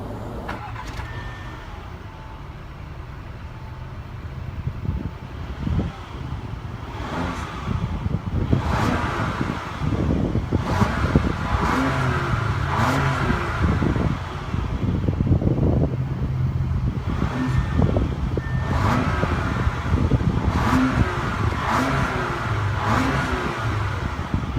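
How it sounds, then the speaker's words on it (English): A 2017 Audi A4 engine firing up and settling into a steady idle, with a couple of brief revs and a fan-like whir, heard close from inside or beside the car. "To start the engine, simply push your foot down on the brake"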